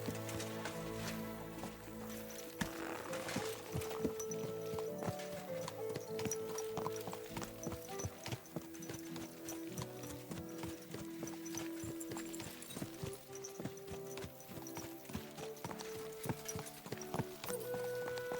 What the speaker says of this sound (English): go ride on my noble steed